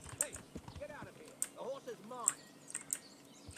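Horse hooves clip-clop in the video game Kingdom Come Deliverance, a string of light irregular taps mixed with chirping birdsong and voice-like sounds.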